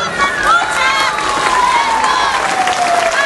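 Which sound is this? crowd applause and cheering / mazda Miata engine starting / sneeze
crowd applause and cheering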